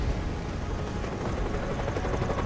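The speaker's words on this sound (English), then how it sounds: "He almost ran into that helicopter." Helicopter flying in the video game Deus Ex: Mankind Divided, a loud, close, continuous rotor thrum with rapid blade chop filling the whole scene.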